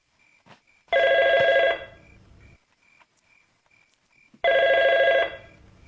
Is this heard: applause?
no